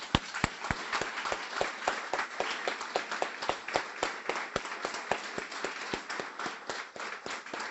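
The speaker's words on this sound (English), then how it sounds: "end it with a round of applause for both puppy raisers, staff, and our graduates at the front of the room." Applause at a Guiding Eyes guide dog graduation for puppy raisers, staff and graduates, a modest crowd clapping in sharp, distinct, fairly rhythmic claps, close and clear, without talk.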